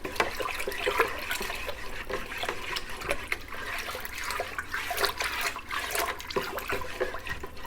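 A mead mixture is stirred vigorously by hand to aerate it, producing continuous liquid sloshing and swirling with small splashy surges, steady and fairly close throughout without speech.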